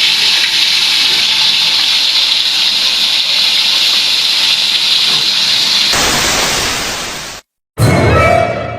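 Diwit fish frying in hot oil gives off a loud, steady, close sizzle that suddenly changes texture and cuts out for a moment before the crackle resumes.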